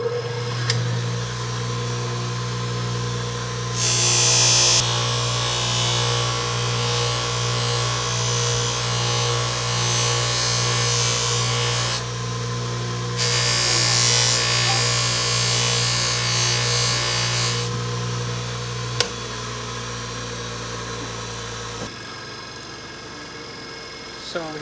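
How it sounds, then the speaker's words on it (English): A motorized buffing wheel loaded with polishing compound hums steadily while working over a tarnished copper pocket knife scale, with two louder grinding stretches as the piece is pressed against the wheel. "I'm just going to turn it on and buff just a little section"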